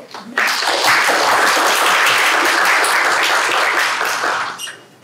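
At a literature festival panel, a room full of people breaks into loud, full applause welcoming a podcaster, rising sharply, holding steady, then tapering off after about four seconds.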